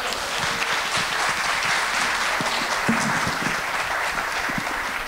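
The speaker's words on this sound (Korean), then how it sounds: "이한주 대표님께 다시 한번 큰 박수 부탁드립니다" An audience at a Korean startup founders' conference claps steadily in a dense, continuous round of applause that holds at an even level throughout, with no talk over it.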